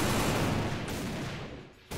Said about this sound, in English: You just have to get past all the gunfire.